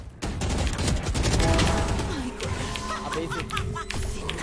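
Dense machine-gun fire rattles through a video game round, with sustained rapid shots layered with other game effects, loud and continuous while a player talks over it.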